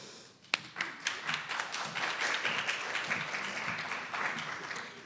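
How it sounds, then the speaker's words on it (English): Audience clapping at a hometown open mic poetry event, a full sustained round of applause after one sharp opening clap, steady and moderately near throughout, with no talk over it. "You guys are clapping like you even know who I am."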